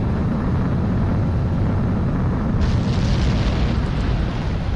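Fighter jet taking off in Ace Combat 7, a continuous loud engine roar that swells brighter midway through as the afterburner-like rush intensifies, with no talk.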